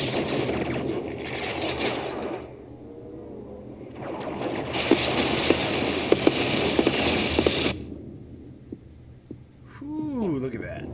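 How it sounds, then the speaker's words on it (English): A missile swarm in the space strategy game Endless Space 2 bursts out as a loud rushing wash of noise lasting a few seconds, surrounded by low humming game sounds and someone talking. "Pretty good missile swarm."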